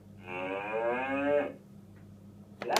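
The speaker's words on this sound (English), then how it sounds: "Black and white cow." A toy cow gives a single long, close electronic moo that swells and then cuts off, with a brief click afterward.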